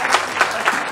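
Applause from an audience at a kavi sammelan (poetry recital) in Delhi, arriving in three or four swelling bursts over a steady bed of clapping hands.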